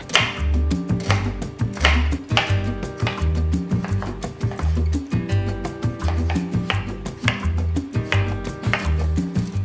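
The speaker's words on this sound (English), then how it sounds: "I'm just going to finely chop some cucumber to make like a tzatziki Greek yogurt sauce" A knife chops cucumber finely on a cutting board, making rapid, steady, close-up knocks that run continuously and evenly throughout with no talking.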